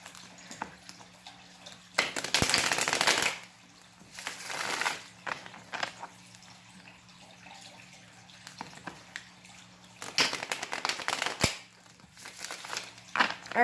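Close, crisp riffling and flicking of tarot cards being shuffled in several bursts with quieter rustling between them, no talking.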